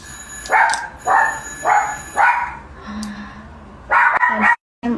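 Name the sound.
dog barking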